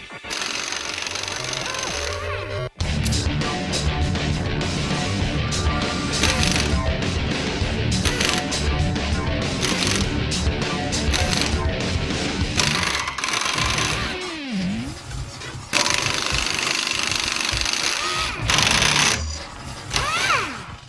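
A Chicago Pneumatic half-inch composite air impact wrench with twin hammer clutch, used for tire changing and industrial maintenance, hammers loudly and continuously up close, with a brief pause and dips in speed before rattling on again.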